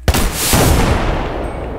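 A cannon from the Minecraft Decimation mod fires one sharp, loud blast that rolls into a long, dense rumble and fades slowly, with no voices over it.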